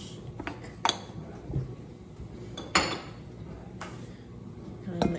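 A spoon clinks against a pot while vegetable beef soup is stirred, a few sharp metallic knocks scattered over a low kitchen background.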